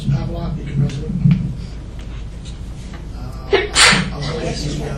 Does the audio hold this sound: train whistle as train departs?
no